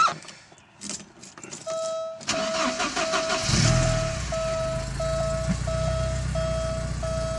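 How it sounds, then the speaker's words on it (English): A 1985.5 Porsche 944 cranks and starts after some clatter, then settles into a steady idle, while a doorbell chimes repeatedly in a regular pattern over the running engine. "So we're gonna start the car up. That way you can hear it run."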